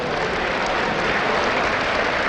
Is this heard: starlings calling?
no